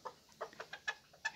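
A small flock of Serama bantam chickens, two hens and a young rooster, give a series of soft, close clucks in irregular short bursts, each one quiet against a calm background.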